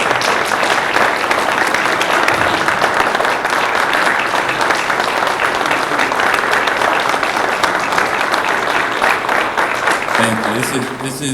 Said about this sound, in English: I'd like another huge round of applause for our Council of Students.